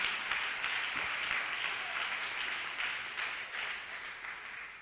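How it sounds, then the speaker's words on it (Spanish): Church congregation applauding during a sermon, a dense, even wash of clapping that holds steady for nearly five seconds and eases slightly toward the end, no speech over it. "Dele un aplauso fuerte a Jesús."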